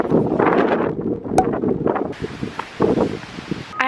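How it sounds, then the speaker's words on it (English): Strong wind buffets the microphone outdoors on a university campus, with rough rustling gusts that rise and fall over a few seconds, loud and close. "It is very windy."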